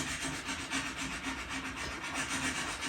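Pencil marks being rubbed out with an eraser on tough Fabriano drawing paper, a steady close scrubbing rasp repeated in quick back-and-forth strokes with no voices.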